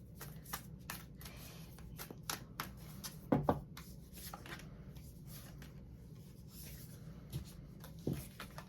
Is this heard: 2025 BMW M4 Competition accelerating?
no